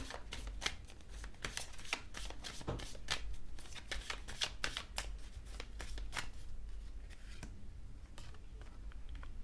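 Tarot cards shuffled by hand up close, a continuous run of quick papery riffles and slaps with no voices.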